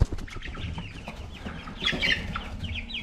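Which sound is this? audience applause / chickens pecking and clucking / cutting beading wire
chickens pecking and clucking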